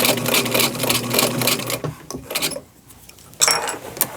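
Squeaky sewing machine stitching fabric, a close rapid mechanical whirring with rubbing squeaks that stops briefly partway through, then starts again.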